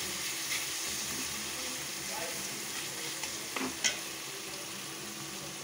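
Masala with crushed cardamom roasts in a pan with a constant loud, hissing sizzle, broken by a few brief scrapes of stirring near the middle.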